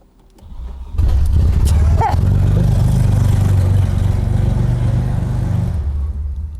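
An Audi 90 Quattro Sport with a sticking clutch, at a scrap yard, starts up after a brief quiet moment and settles into a loud, steady, close engine run that fades slightly near the end, with faint voices in the background.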